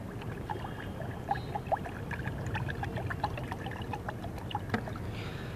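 Water pours into a pot to soak plant fertilizer ingredients for a bottle gourd plant, with a soft continuous trickle and small splashes heard up close and alone.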